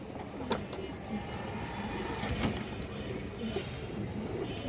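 Maxi pigeons coo softly and repeatedly at close range, a low murmuring call over steady background noise with a few sharp knocks.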